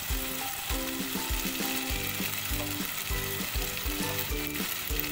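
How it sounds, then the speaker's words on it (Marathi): Ground masala paste sautéing in oil for a Halwa fish curry, a steady close sizzle with rhythmic scraping and stirring strokes repeating throughout, no voices. "त्याच्यामध्ये आपण वाटलेलं वाटण टाकणार आहोत आणि तेल सुटेपर्यंत मस्त परतवून घेणार आहोत"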